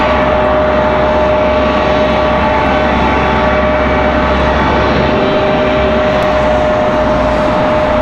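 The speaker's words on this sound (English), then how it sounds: "That's going to be a United Express E175." A United Express Embraer E175 operated by Mesa Airlines, arriving at Raleigh-Durham from Houston, gives off a loud, continuous jet engine roar with a steady high whine riding on top, unbroken and close, with no speech.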